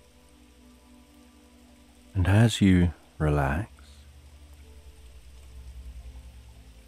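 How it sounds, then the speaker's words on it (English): Steady soft rain falling outside, a constant gentle patter throughout, briefly under a calm spoken voice. "imagine that you're being told this sleep story to the relaxing backdrop of rain outside"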